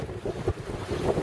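Small sailing boats out on open water on a sunny day, with steady wind buffeting the microphone and low rushing water and waves throughout, no voices.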